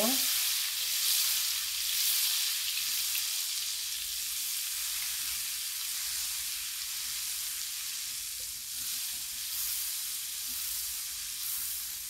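Leftover hotpot beef fries in melted butter with a steady, close sizzling hiss that holds evenly throughout, without any talking.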